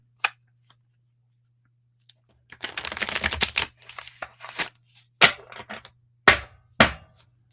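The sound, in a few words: shuffling a deck of playing cards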